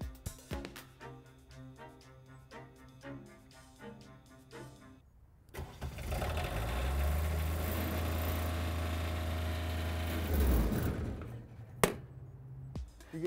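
A diesel engine on a mobile pressure-washing trailer cranks and catches after some clicking, then settles into a steady low idle rumble that runs for several seconds before a sharp knock.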